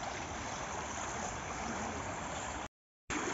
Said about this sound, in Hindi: यहाँ से पानी की नहर जा रही है क्योंकि मछलियों को लगातार बहने वाला पानी चाहिए होता है